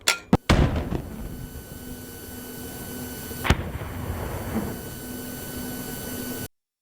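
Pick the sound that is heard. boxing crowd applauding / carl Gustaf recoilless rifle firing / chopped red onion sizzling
carl Gustaf recoilless rifle firing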